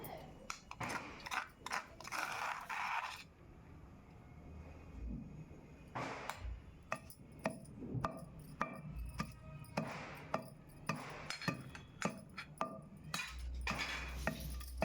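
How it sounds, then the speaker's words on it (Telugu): Ridge gourd chutney being pounded and mixed by hand, giving repeated sharp knocks in uneven bursts, some of them clustered and quick, with quieter scraping in between. "ఒకసారి కలుపుకొని దంచుకుందాం"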